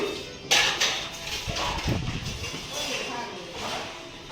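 Metal kitchen containers and utensils clatter and clink as they are pulled out for washing at home, a sharp bang near the start followed by scattered knocks and scrapes, with a voice talking quietly underneath.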